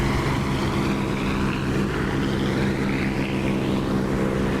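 Steady aircraft engine drone inside a DCS flight simulator cockpit, a constant loud propeller-like hum with low tonal bands holding even throughout, no voices.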